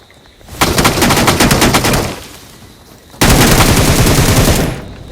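Two bursts of rapid automatic gunfire in a shooting video game, each lasting about two seconds, loud and close with a short pause between them.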